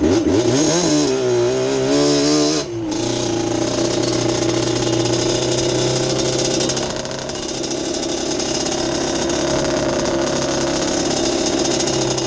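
Engine revs up with a rising whine, drops briefly, then holds a loud, gritty drone close by as the vehicle pulls over gravel.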